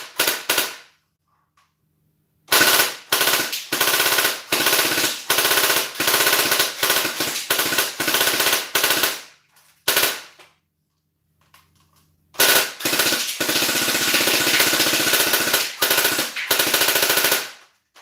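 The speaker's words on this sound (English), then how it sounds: "Okay, it shot a few rounds." Battery-powered toy gun firing rounds in long rapid bursts, a loud, close, rattling stream of shots broken by short pauses and a near-silent gap, then a final sustained burst.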